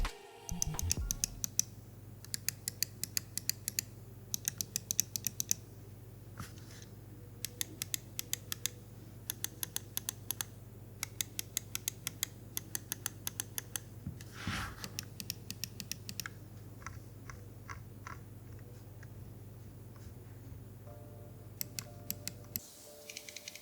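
Button clicks on a Glorious Model D lightweight gaming mouse come in quick, crisp bursts of several clicks with short pauses between them. They sit close and quiet over a steady low hum.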